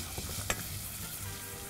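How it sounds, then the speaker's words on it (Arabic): Chinese-style meat, sweetened with sugar and soy sauce, sizzles steadily in a pan while a utensil stirs it, with one brief sharp clink of metal early on over the constant hiss. "نقلب كده"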